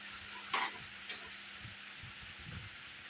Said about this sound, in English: After allowing it to fry for some time, I'll go ahead and stir together once again.